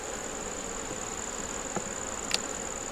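Honey bees humming around an open nuc box while supers are being added, with a steady unbroken drone and a couple of faint clicks near the end.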